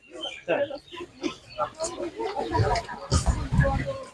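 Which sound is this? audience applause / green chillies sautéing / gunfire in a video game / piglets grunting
piglets grunting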